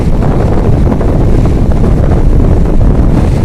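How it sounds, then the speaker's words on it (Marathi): Strong wind gusting across Gavkhadi beach in Konkan, Rajapur, loud rumbling buffeting close on the microphone, steady throughout without speech. "सुसाट एकदम वारा वा एकदम भारी आहे"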